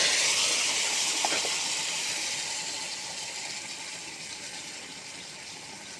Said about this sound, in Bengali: আমি এখন বাগার দিয়ে দিলাম।